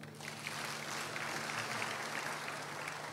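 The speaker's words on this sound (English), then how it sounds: "Clap for them now." A church congregation applauds a married couple during a sermon, a steady, fairly faint wash of many hands clapping that continues evenly for about three seconds with no voices over it.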